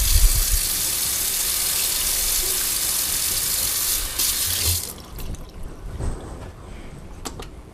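A paintbrush holding blue paint is rinsed with soap under a running tap, a steady close rush of water that cuts off midway, leaving scattered drips and small splashes.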